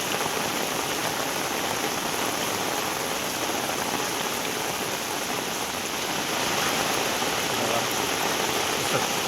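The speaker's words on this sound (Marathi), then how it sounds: "त्याच्यात पाऊस पडतो जोरदार जोरदार पाऊस आहे" Heavy monsoon rain pours down steadily in Kudal, India, near a flooded river, a loud, dense hiss of water hitting surfaces that never lets up.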